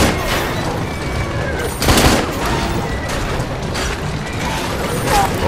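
Gunfire in Assassin's Creed Syndicate, a dense crackling barrage with a few sharper louder shots, mixed with game clatter and a voice talking.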